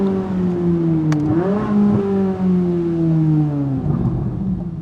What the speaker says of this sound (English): let's go ahead and do some pulls in this car so you guys can hear how it sounds with the roof down